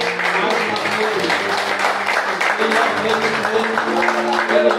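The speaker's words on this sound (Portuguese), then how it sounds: "E aplauda o Senhor." A church congregation applauding during a worship service, steady dense clapping with voices mixed in underneath, continuing evenly throughout.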